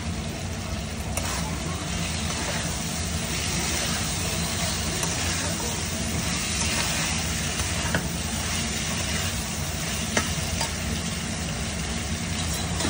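Thinly sliced potatoes sizzling in a pan with ground cumin and a splash of hot water, a steady, dense frying hiss close up, with occasional light stirring clicks.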